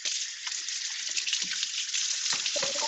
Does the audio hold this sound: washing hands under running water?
yes